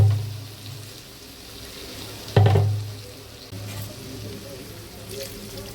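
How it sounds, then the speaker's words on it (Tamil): Water poured into a pan of vegetables for a veg kurma, a brief loud splash with sizzling in the middle, over a steady low kitchen hum and quiet hiss; a voice murmurs faintly. "இப்போ நான் இந்த காய் அதாவது வேகிறதுக்கு தேவையான தண்ணி ஊற்றுறேன்."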